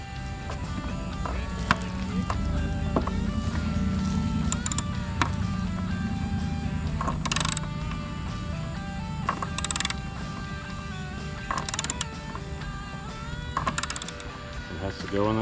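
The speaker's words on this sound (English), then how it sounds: "Use your ratchet." A hand ratchet clicks in quick runs of small metallic pawl ticks during a Jeep XJ tail light replacement, close by, with a voice speaking and faint background music.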